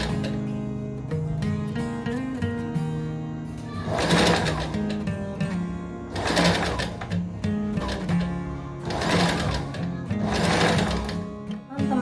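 A sewing machine stitches a dress along a pinned seam in several loud, close bursts of rapid whirring, separated by brief pauses, with a faint voice now and then.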